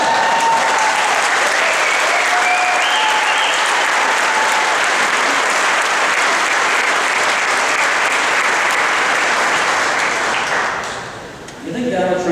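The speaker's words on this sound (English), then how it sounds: "Donald Trump gets applause like that?" Sustained, loud audience applause fills the room at a talk, dense clapping from a large crowd that holds steady for about ten seconds before tapering off at the end.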